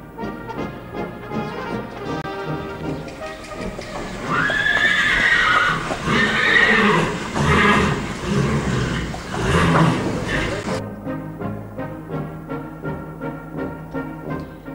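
A horse being groomed and prepared by a groom or rider, with a loud whinny in the middle rising over a continuous busy background with music-like tones and faint voices.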